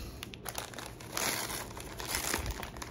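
Decorative wrapping paper crinkled up close while a swap box is unwrapped, with steady crackling that swells into a louder, denser crumple partway through.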